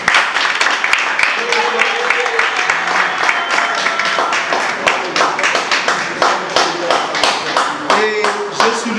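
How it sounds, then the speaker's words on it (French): A crowd claps steadily and fairly loudly throughout, a dense continuous round of applause with some voices mixed in. "je vous prie encore une fois d'applaudir très très fort"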